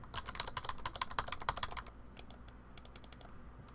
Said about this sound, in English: I'm pressing all sorts of keys